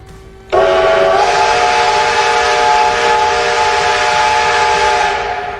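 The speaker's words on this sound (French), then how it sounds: "J'aurais peut-être pas dû changer le sifflet là." Loud steady steam-style train whistle in the Roblox Terminal Railways game, starting abruptly and holding one sustained chord for about five seconds before fading slightly at the end, with no talk.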